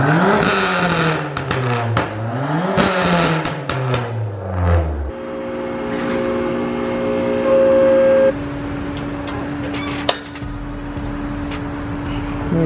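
A Dodge SRT rolls up with the engine note rising and falling in revving sweeps, then settling into a steady idle hum close by.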